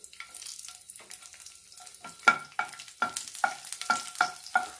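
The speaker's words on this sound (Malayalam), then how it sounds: "ചൂടായ എണ്ണയിലേക്ക് ഈ ഗാർലിക്ക് ഇട്ട് കൊടുക്കാം." Garlic dropped into hot coconut oil fries with a steady sizzle, broken by a series of sharp, rhythmic scraping strokes as it is stirred in the pan, close and clear with no talk.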